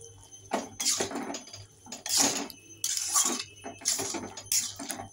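A spoon stirs ghugni, a potato and pea curry, in a pot. Several distinct bursts of scraping and clinking come in an uneven rhythm, close and fairly loud, with short quiet gaps between strokes.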